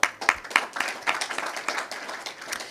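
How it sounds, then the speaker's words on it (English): A small audience at a media launch claps briefly, with a few distinct sharp claps at the start giving way to softer, scattered clapping that thins out. "Please give him a clap."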